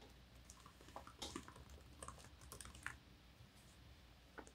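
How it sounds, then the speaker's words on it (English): Quiet, close typing on a computer keyboard during a livestream gives irregular soft key clicks and taps with short pauses between them. "I'll type it again."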